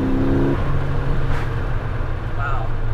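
A Nissan Silvia S13 fitted with 256 Tomei Poncam cams revs hard up close, a loud, steady engine roar that briefly holds a higher pitch before settling into a rough, droning run.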